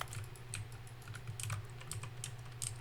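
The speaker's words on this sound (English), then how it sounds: "I forgot that when you press keys, it like makes a button sound." Key presses in the video game The Stanley Parable: Ultra Deluxe triggering in-game button sounds, heard as a steady run of quick, light clicking taps over about three seconds, close and moderately quiet.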